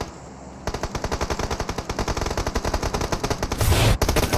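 Rapid automatic gunfire rattles in the battle royale video game PUBG Mobile, a sustained fast burst of closely spaced shots that runs for several seconds with no pause, loud and near.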